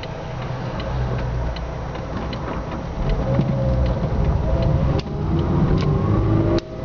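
Small Fiat Cinquecento engine running steadily under load as the car accelerates through second, third and fourth gears, with faint rising engine tones and a loud constant road and cabin rumble.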